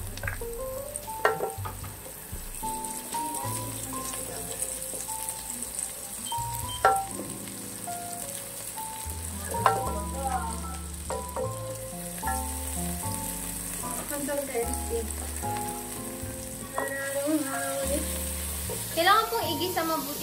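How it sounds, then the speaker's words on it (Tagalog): Tomatoes, garlic, onion and ginger sizzle steadily in a pan as they are sautéed for ginataang gulay, a continuous frying hiss with occasional stirring clatter and someone talking over it throughout. "Kailangan pong igisa mabuti yung kamatis."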